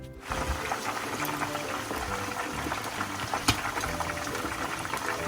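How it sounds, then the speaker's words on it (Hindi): Raw chicken pieces deep-frying in hot oil over a high flame give a continuous, close, crackling sizzle with occasional sharper pops, heard alone without talk. "ऑयल हमारा अच्छी तरह गर्म होना चाहिए। अब हम इसमें चिकन डाल देंगे।"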